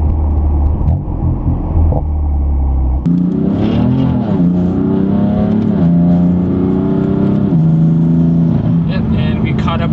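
A 600-horsepower BMW M4 engine surges loudly, rising in pitch as it accelerates through gears, with a low rumble before the first upshift.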